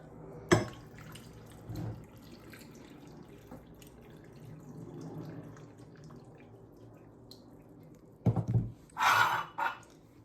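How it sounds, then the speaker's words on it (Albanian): Water is poured into jars of home-made pickled tomatoes, with short splashing bursts and a few drips and clinks set apart by quiet stretches, heard close with no talk. "Ju hedhim ujin."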